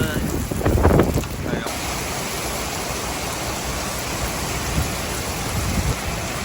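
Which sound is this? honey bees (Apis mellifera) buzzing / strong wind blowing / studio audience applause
strong wind blowing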